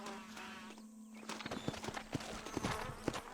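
Horse hooves clip-clop on the ground in the 2010 video game Red Dead Redemption, a brisk uneven run of sharp hoofbeats over a faint insect-like buzz and low hum, growing busier toward the end.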